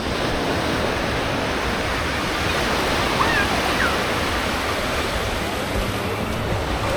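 Ocean surf at Canasvieiras beach in Florianópolis on a summer day, a steady broadband wash of breaking waves with light wind, continuous and moderately loud.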